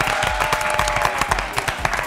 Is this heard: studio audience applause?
yes